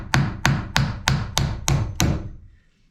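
Hammer driving nails into a wooden shim while framing a door in a tiny house build: seven sharp, evenly spaced strikes about a third of a second apart, close and loud, then silence.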